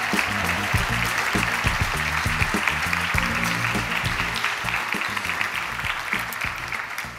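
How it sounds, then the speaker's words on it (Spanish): Sustained audience applause at an inclusive fashion show in Ibiza, dense steady clapping from a large crowd lasting several seconds and tapering slightly at the end. "Fuerte aplauso para ellos."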